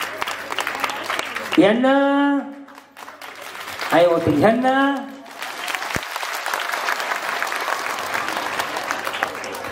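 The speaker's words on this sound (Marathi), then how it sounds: "ज्यांना वाटतं यांना पैठणी द्यावी तरी टाळ्या वाजवा" An audience at a Home Minister Paithani game event in Loni Kalbhor claps for a contestant, steady clapping running beneath a voice that speaks over it in two bursts, then carrying on alone to the end.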